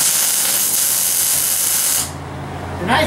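A Lincoln welder in a workshop gives a loud, steady, crackling hiss for about two seconds and then cuts off, leaving a quieter hum before a short final burst.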